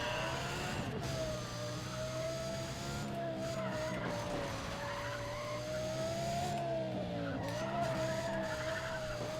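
Race car in Need for Speed ProStreet skidding through turns: a steady engine drone with a sustained tire squeal that wavers as the car slides, loud and continuous throughout.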